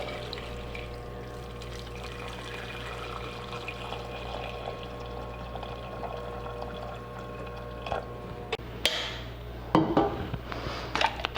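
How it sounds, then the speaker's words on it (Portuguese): Water pours steadily into a cooking pot for oxtail stew over a low steady hum, ending with some clattering and splashing near the finish. "Então, vamos colocar aqui a água."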